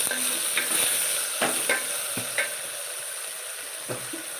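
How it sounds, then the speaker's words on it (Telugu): Cut tomato pieces frying in a pan with toor dal for a chilli curry, giving a steady sizzle broken by a few sharp scrapes of a stirring spoon, close and moderately loud with no voices. "ఇలా కొద్దిగా కందిపప్పు వేగిన తర్వాత ఇందులోకి కట్ చేసుకున్న టమాటా ముక్కలు కూడా యాడ్ చేసుకోవాలి"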